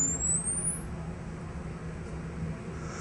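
A piercing high-pitched tone from an LRAD acoustic device sweeps upward and cuts off within a second, over a steady low rumble of background noise.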